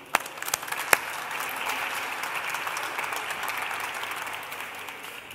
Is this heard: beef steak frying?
no